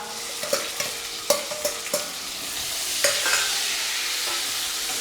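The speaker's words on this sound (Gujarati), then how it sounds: "સરસ મજાનો વઘાર આવી ગયો છે" Whole spices tempering in hot oil give a steady, close sizzle, with a few sharp utensil clinks from stirring in the first couple of seconds; no one talks.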